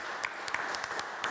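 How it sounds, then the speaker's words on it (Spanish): Sparse, thin clapping from a small group sounds faint and distant, with a few distinct hand claps standing out, during a televised lottery draw as a prize winner is congratulated. "Un aplauso cerrado de todos"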